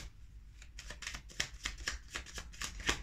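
Tarot cards shuffled for a cross spread, a quick run of papery riffling flicks repeating steadily and close by, with no talk.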